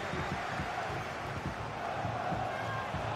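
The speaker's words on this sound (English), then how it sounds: "The crowd encouraging him to take it on." A stadium crowd in the EA Sports FC 24 football game roars in a dense, continuous wash of cheering at moderate level, steady throughout with faint commentary mixed in.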